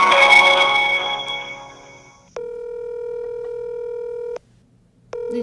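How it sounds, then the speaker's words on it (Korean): A telephone call is placed during a live broadcast: a fading burst of sound gives way to a steady electronic ringback tone that holds for about two seconds, cuts out briefly, then resumes. "지금 전화 연결을 하고 있습니다"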